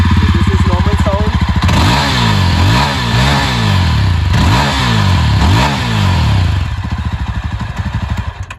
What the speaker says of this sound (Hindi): चलिए बाइक की रेस दे के बाइक की साउंड सुनते हैं